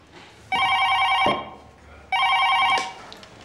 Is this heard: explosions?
no